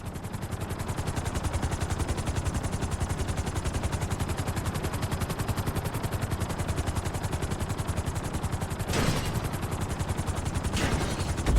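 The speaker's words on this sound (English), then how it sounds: "Bring the helicopter down gently onto the helipad." A helicopter in a flight school video game descends onto a helipad, its rotor chopping in a fast, steady, even pulse throughout, with two brief swooshing gusts near the end.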